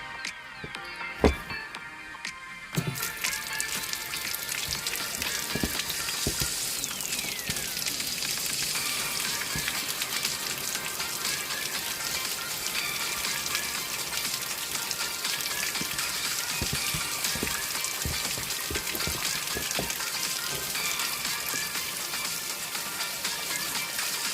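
Water runs steadily over leeks being rinsed, a continuous hissing splash that starts after a few brief clatters and holds loud and close to the end.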